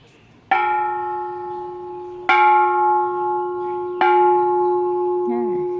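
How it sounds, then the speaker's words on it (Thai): A large, very old Thai temple bell struck three times at steady intervals, each hit ringing out with a long, humming metallic sustain that overlaps the next. "ใช้การได้อยู่ เสียงดังกลางวานดีค่ะ แต่เป็นระฆังที่เก่ามากจริง ๆ"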